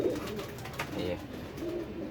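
Pigeons cooing in a loft, several birds, all of them molting, their low murmuring coos steady and moderately close against faint background voices.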